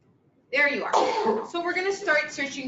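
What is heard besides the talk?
sneeze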